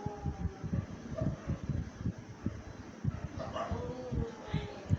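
Street dogs living below a home bark and yip in a quick, uneven run of sharp calls, fairly close and loud against a low background hum.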